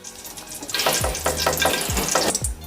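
A little pakora batter drops into hot oil and crackles in bright, close sizzling bursts, with a few soft thuds recurring over a steady frying hiss.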